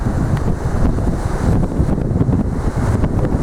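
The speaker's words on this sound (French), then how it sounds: "Il y a du vent." Gusty wind buffets the microphone outdoors at night, a loud low rumble that swells and drops unevenly throughout the short stretch with no speech on top.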